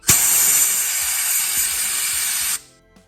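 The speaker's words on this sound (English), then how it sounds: "Take the old air hose. Blow it out." Compressed air hose blasting old grease, rust and carburetor cleaner out of Honda Prelude brake caliper slide bores: a loud, steady hissing burst lasting over two seconds, then cutting off abruptly.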